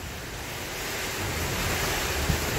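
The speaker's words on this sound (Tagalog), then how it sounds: "Lakas ng hangin, Sky." Strong gusting wind roars outdoors during a windy, rainy day, a steady broadband rush buffeting the microphone with low rumbling swells and no voices.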